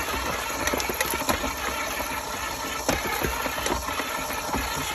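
A kitchen stand mixer works cold laminating butter with mango powder, a steady mid-pitched motor whir with faint scraping ticks, running continuously and moderately loud with no voices.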